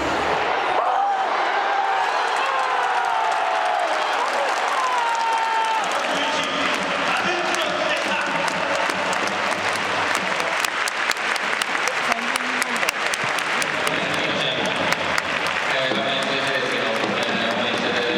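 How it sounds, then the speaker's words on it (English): A stadium crowd at a Japanese football match claps in rhythmic unison with steady drumming, loud and continuous, with the beat sharpening into regular pounding hits partway through. "now we've got clapping and drumming in the stadium"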